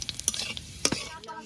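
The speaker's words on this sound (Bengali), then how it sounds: "এর উপর দিয়ে দেবো জিরে আর গোটা গরম মশলা আর গোলমরিচ" Cumin, whole garam masala and peppercorns hit hot oil for a meat curry, crackling and sizzling up close alongside a few light clinks and stirs in the pan, with no talk.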